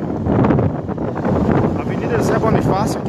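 Strong hurricane-force wind roars through the streets of Arcoverde, Pernambuco, a loud, continuous buffeting rush with gusts, as people talk over it.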